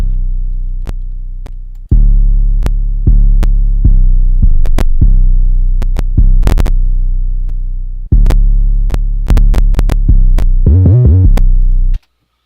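Deep 808 bass notes from a trap beat made in FL Studio, sustained tones with pitch slides and a quick burst of gliding notes near the end, playing loud with crisp hi-hats over it.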